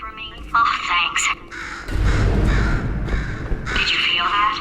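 Crows caw in Portal 2, loud harsh calls that repeat several times, broken up by stretches of louder rumbling game noise and a voice talking in between.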